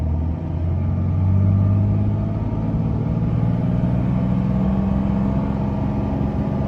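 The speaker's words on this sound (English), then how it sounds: "shifting from first to second gear and then falling back into first gear" A Dodge pickup with a failing 48RE automatic transmission runs with a deep, steady engine rumble, swelling slightly then holding as it struggles to shift into second, loud and close with no talking.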